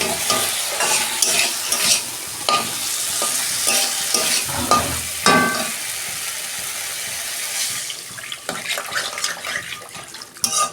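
Water pours into okra and onion frying in a pan for a fish curry, a busy sizzle and splashing wash with spatula scrapes and clatter, quieting toward the end as the stirring continues.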